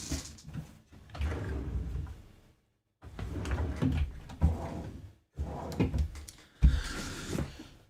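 Wooden drawers and cupboard doors being opened and shut in a household during a hurried search, with bursts of sliding, thudding and rattling in three clusters separated by short silences, fairly close.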